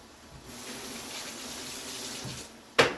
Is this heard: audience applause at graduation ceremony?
no